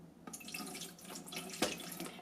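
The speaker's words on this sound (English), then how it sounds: "I am using my measuring cup with a spout and it's still not that easy to fill." Water is poured from a spouted measuring cup into a Brita Ultramax filter dispenser, a faint, close splashing trickle with a few brief louder splashes and no speech.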